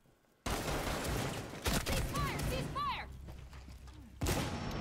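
Gunfire in the tactical shooter Rainbow Six Siege comes as a sudden loud burst of rapid shots with sharp cracks and ricochet-like whines, followed by a second burst near the end.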